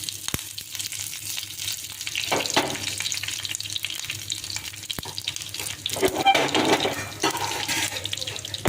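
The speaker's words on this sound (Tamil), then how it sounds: "எண்ணெய் ஊற்றி கடுகு வந்து நல்லா வெந்துட்டுருக்கு" Mustard seeds and curry leaves frying in hot oil while tempering for curd vadai, a steady close sizzle with sharp pops and a brief louder crackle near the end, no talk.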